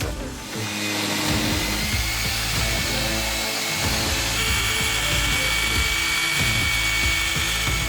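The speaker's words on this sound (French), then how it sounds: "La ponceuse excentrique permet de travailler aussi bien le bois que les surfaces peintes." A Parkside Performance random orbital sander buzzes steadily and loudly against wood, a continuous dense mechanical whir with no talking.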